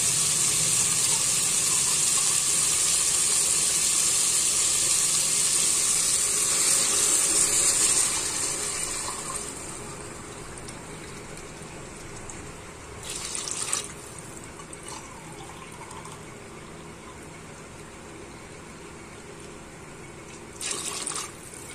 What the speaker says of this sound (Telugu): ఫిఫ్టీ పర్సెంట్ ఫ్రై అయిన తర్వాత ఇలా వాటర్ వాటర్ పోసుకోవాలి గ్లాస్కి రెండు గ్లాసులు నీళ్లు